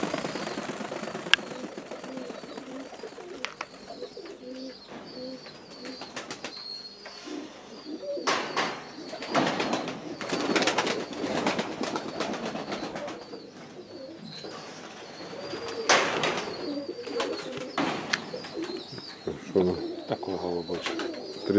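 Pigeons coo in a pigeon loft, a steady run of soft repeated coos from several birds close by, with occasional sharper rustles and brief bursts of louder activity.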